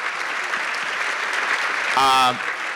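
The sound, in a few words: audience applause for the panel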